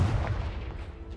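A Confringo fire spell blasts in Hogwarts Legacy, a short, loud, close burst with a heavy low thump that fades quickly.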